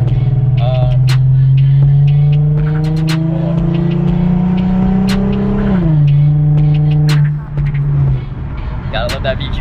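A car with a VQ engine on the way to Palm Beach Raceway Park revs loudly and close, its tone climbing steadily for several seconds before dropping back to a lower drone, with some background noise.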